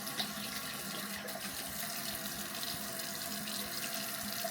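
A tap runs steadily into a sink while someone washes their face with cupped hands, a continuous close water flow with faint splashes and no talking.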